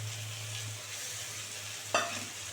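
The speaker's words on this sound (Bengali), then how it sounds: "এই যে ভাজা চিংড়িটা দিয়ে দিচ্ছি," A steady, even sizzle of masala cooking in a pan is broken near the end by one sudden burst as fried prawns are dropped in, then the sizzle carries on.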